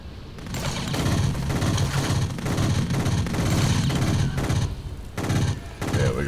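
Sustained burst gunfire from a mounted emplacement gun in the video game Kill Switch, a dense continuous rattle of rapid shots with booming impacts, loud and close throughout with a brief dip near the end.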